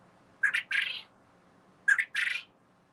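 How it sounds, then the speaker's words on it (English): A bird calls twice outdoors on a rural property, each call a short sharp note followed by a harsher buzzy squawk, clear and fairly close against a quiet background. "some beautiful chirping in the background"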